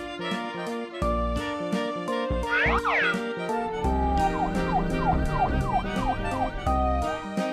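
A police car siren wails, sweeping up and down repeatedly over a busy, musical toy-like background, loud and close throughout.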